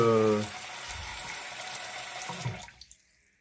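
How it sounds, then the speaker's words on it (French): Tap water running into a slow-draining bathroom sink, a steady close splashing that fades out, with a brief tone at the start and a few drips at the end. "quand j'ouvre mon lavabo, je vois que le niveau de l'eau il remonte"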